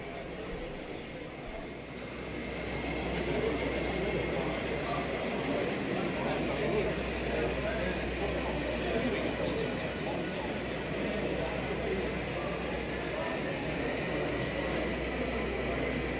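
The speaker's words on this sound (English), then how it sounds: "As the intermodal train passes by, another one in the hands of a Canadian Pacific ES44AC number 8743 leads another intermodal train." A steady rumble of an N gauge model intermodal freight train rolling past on an exhibition layout, a continuous mid-level mechanical drone with hall ambience and a faint voice, holding constant for the whole span.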